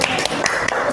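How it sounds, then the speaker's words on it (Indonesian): A classroom group claps in a quick burst of overlapping hand slaps during an Islamic religious education lesson. The clapping is close and lively and fills the brief moment with no talk. "tepuk tangan untuk kita semua"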